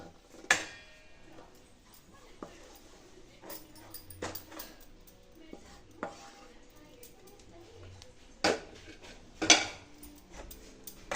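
Amla candy mixture scraped from a pan onto a ghee-greased plate in a home kitchen, heard as a few sharp utensil clacks and scrapes against metal, spaced apart over quiet background.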